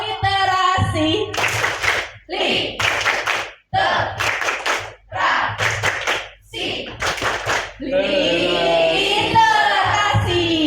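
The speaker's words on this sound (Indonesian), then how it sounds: "Yuk kita tepuk literasi satu kali lagi" An audience at a book-review writing workshop in Pekalongan Regency performs the rhythmic literacy clap, sharp patterned bursts of hand claps in quick groups, between loud group chanting at the start and end.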